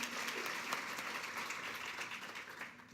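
Sustained applause from a conference audience, a continuous close wash of many people clapping at a moderate, even level throughout.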